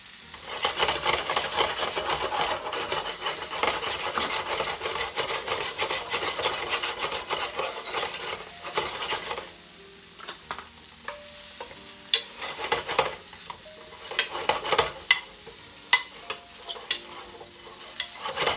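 Mushrooms and garlic are stirred in a pan, with a wooden spoon scraping and rubbing against the surface in steady close strokes. A soft sizzle runs underneath, and later the scraping breaks into sharper, separate clacks.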